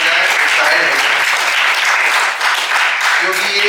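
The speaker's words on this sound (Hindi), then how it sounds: "आप लोग जरा जोरदार तालियां बजाएं" Loud, sustained applause from an audience in a university auditorium fills the whole stretch, with dense clapping that swells and stays strong, and voices faintly mixed in.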